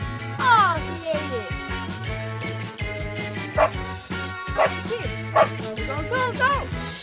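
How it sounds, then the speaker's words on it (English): A dog gives a few short barks and yips, mixed into steady background music and a voice nearby. "Now it's time to play with the dog."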